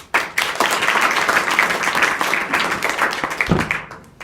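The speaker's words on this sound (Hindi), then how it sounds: "भाई इनके लिए ताली बजाओ।" Students applaud at a school adolescent education program, a dense burst of close clapping that builds quickly, holds for a few seconds, then fades with a thump at the end.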